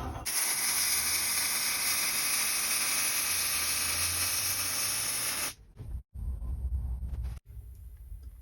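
Short circuit MIG welding with 90/10 (C10) shielding gas gives a loud, steady crackling hiss for about five and a half seconds, then cuts off and leaves quieter background noise with brief dropouts.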